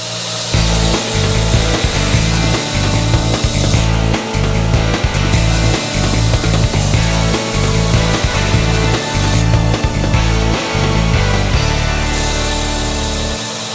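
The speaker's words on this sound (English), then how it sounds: "We got a blade to grind on here." Freehand grinding of the bevel on a dagger blade made from a railway spike gives a continuous loud, close, rasping grind, broken by brief lifts and pauses as the steel meets the wheel.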